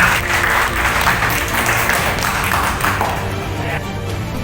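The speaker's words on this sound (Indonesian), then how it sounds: "beri aplaus dulu kepada Ramana." A classroom of students applauds together, a sustained wash of hand clapping that holds steady throughout at a fairly loud level, with a faint murmur of voices beneath.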